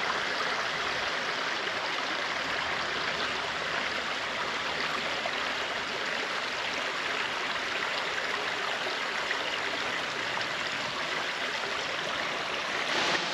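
Creek water rushes steadily near a hidden waterfall in rainforest at Cougal Cascade, Currumbin Cascades, Springbrook on the Gold Coast, a constant broad hiss and burble, close and unbroken with no voices.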